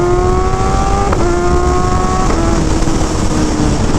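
Sport street motorcycle engine revving loudly and continuously, with a steady rising and falling tone and a few sharp exhaust pops breaking through, close by with no talking.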